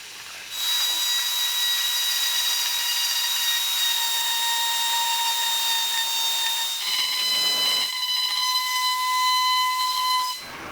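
A hot air plastic welder blows a steady, loud hiss with a faint whistling tone while heating a torn Toyota Prius bumper and welding rod, running almost without pause and shifting slightly in pitch partway through.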